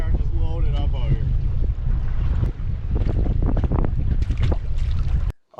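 Strong wind buffets the microphone outdoors on a fishing trip, a loud continuous rumble with gusty bursts, while someone talks over it before the sound cuts off abruptly near the end.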